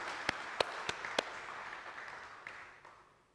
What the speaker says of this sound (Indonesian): sebagai wujud kita ya berikan tepuk tangan